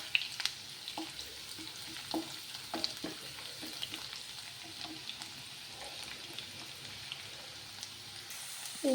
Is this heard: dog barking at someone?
no